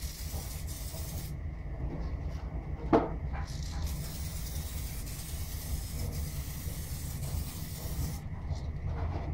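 Spray gun laying down a fast first coat for hydrographics, a steady broadband hiss running continuously near the mic, with a brief knock partway through.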